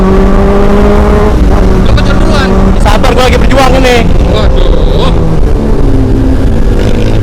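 Revving motorbike engine sounds from a video game, loud and continuous with rising and falling pitch, while a person talks excitedly over it.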